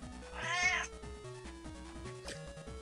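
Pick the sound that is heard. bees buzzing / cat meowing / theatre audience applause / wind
cat meowing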